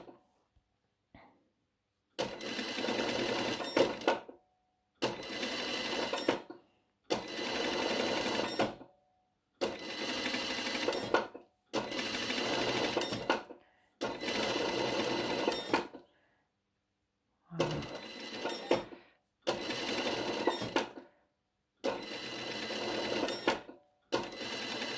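Sewing machine stitching a zigzag on a blouse in short bursts of rapid, even whirring, separated by brief pauses, close and clear.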